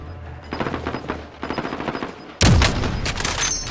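Gunfire in Call of Duty Modern Warfare: rapid automatic bursts in short strings, then a sudden loud, close blast followed by dense continuous firing.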